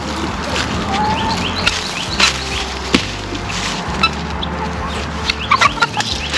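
Backyard chickens cluck steadily nearby, with scattered louder squawks and pecking sounds against a busy farmyard background.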